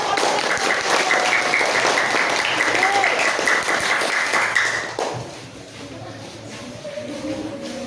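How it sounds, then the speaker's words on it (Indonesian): A group claps for about five seconds during a classroom teacher-training session, a dense patter of many hands that stops abruptly, leaving room noise and voices. "Tepuk tangan."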